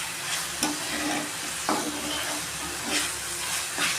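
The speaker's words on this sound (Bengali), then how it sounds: "এই কুচানো টমেটোটা আমি দিয়ে দিলাম" Chopped tomato sizzling in frying masala for fish curry, a dense continuous hiss close up with a few soft stirring knocks against the pan, no talking.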